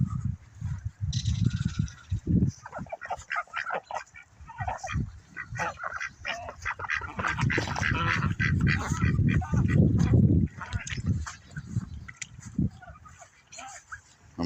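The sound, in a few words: ducks honking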